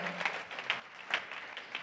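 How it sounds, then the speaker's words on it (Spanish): Brief applause at a sustainability and CSR conference for Ramón Fuentes of CaixaBank, a short, fairly faint patter of clapping from the audience lasting under two seconds. "Un aplauso para Ramón"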